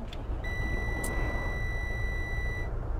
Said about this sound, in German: Da piepst du mir ins Ohr ran.